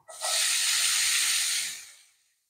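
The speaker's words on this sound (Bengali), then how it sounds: "এই একই তেলের মধ্যে পেঁয়াজ কলিগুলোকেও ভেজে নেব।" Onion stalks drop into hot oil that has just fried fish, setting off one sudden burst of hissing sizzle that holds for about a second and a half, then fades away quickly.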